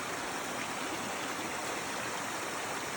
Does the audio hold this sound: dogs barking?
no